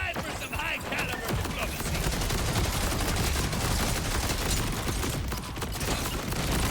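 Atling gun in the Borderlands video game firing during a boss fight: a dense, unbroken stream of rapid gunshots and impacts that stays loud and steady throughout, with no pause in the fire.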